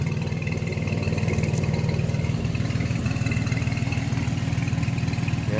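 A Chevrolet S10 Blazer 4x4 engine runs smoothly while driving, a steady low rhythmic rumble with constant road and cabin drone, loud and even with no misfires.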